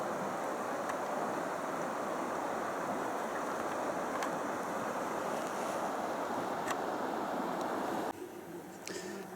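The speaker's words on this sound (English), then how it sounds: "You can hear a little bit of some rapids over there." Steady rushing water noise from Rio Grande rapids in Big Bend National Park, broad and continuous like rapids in the distance, with a little wind over it.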